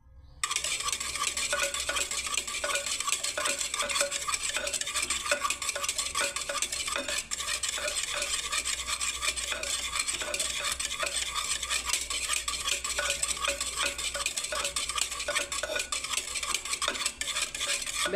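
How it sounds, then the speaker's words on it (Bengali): A metal utensil stirs yogurt in a pot, making a continuous, steady scraping and clinking against the pot for a long stretch with no talk. "আমি আরও কিছুটা ঘেটে দিচ্ছি বন্ধুরা দইটাকে"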